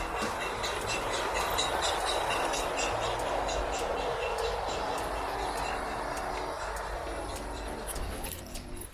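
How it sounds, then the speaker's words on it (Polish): A miniature train at a model park rattles steadily along the track with a continuous clatter and faint clicking; soft voices murmur in the background. "A nie, jedzie pociąg."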